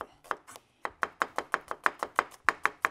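A knife chops an onion into strips on a board in a home kitchen, with crisp, evenly spaced cuts, about fifteen close taps in quick rhythm, alone with no talking.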